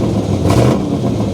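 A big-cammed LT1 V8 with a Comp XFi 292 camshaft idles roughly while cold, a loud, close, lumpy engine rumble with a brief throttle blip.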